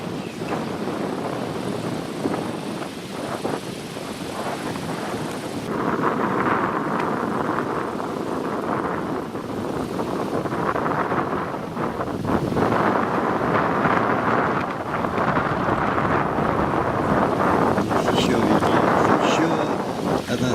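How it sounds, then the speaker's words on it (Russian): A strong headwind blows over a widening river during a multi-day rafting trip down the Luga. It batters the microphone as a continuous loud roar and rumble with gusty surges throughout. "Сильный встречный ветер."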